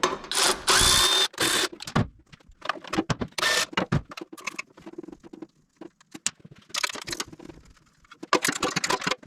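Power tool taking the cover off the engine of a vintage Simplicity Cavalier 3110 riding mower, close bursts of whirring separated by pauses and small clicks and rattles.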